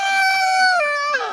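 Chickens, roosters and hens crowding close by on a farm, giving a sustained, drawn-out crowing call with a steady tone that slides lower, clear and close.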